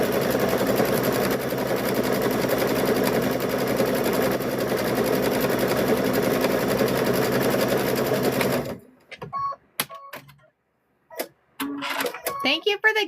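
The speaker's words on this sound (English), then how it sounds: "We're about done stitching this bear." A sewing machine stitches a stuffed bear in a long continuous loud whirring run, then stops, followed by a few brief clicks and handling noises.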